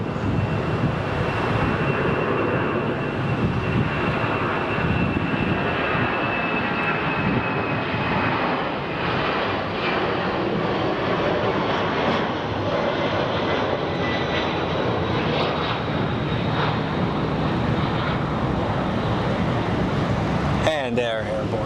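A fixed-wing airplane takes off at Phoenix Sky Harbor airport, its engines making a loud, steady roar that holds for about twenty seconds before briefly shifting at the end.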